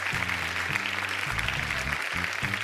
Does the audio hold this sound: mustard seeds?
no